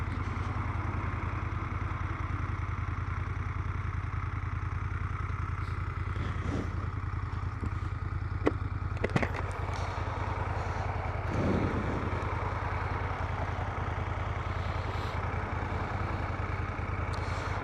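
A Moto Guzzi Griso motorcycle idling while standing still, its engine giving a steady, low, even throb throughout, with a few brief clicks and clatters over the rumble.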